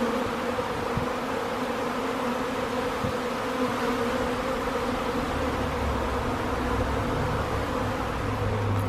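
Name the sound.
honeybee swarm buzzing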